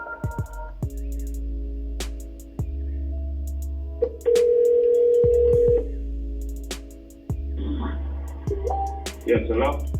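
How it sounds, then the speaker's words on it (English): A phone rings with repeated electronic tones and a sustained beep amid low room hum, while someone talks in between. "I'm not sure if that was my phone or your phone"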